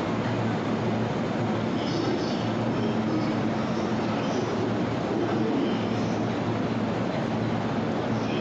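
An out-of-service train passes through a suburban Japanese railway station, its rumble and rail noise loud and steady from start to finish with no break.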